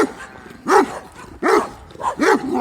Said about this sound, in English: Pretty scary looking dog.